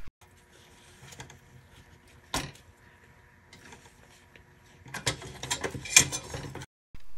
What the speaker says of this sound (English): Reinstall the small screws here, being sure to put them back where they came from.